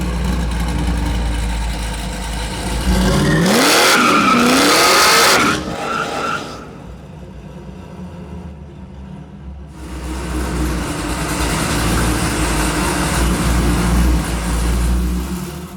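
Supercharged 750 hp Chevy Nova pro-touring muscle car engine idling with a deep rumble, then revving hard toward 7,000 rpm with a rising whine, dropping back to idle, quieting briefly, and rumbling again.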